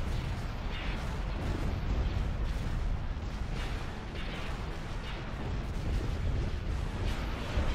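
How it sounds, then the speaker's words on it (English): Rapid heavy quad turbolaser cannon blasts in a video game boom over and over in a dense, rumbling barrage, loud and continuous with repeated sharp bursts. "Oh, those are heavy quad turbo lasers."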